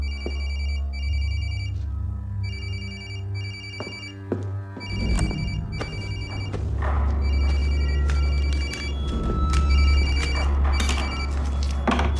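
A telephone rings repeatedly in a regular pattern of trilling bursts, fairly clear, over a low background rumble and a few thuds and movements.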